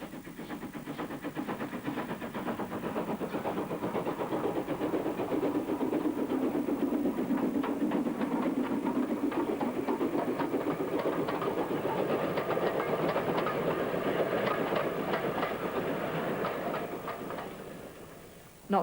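A preserved heritage locomotive-hauled train rolling along a railway beside the River Severn, building to a steady rumble with rhythmic clickety-clack of wheels over rail joints, passing fairly close before fading near the end.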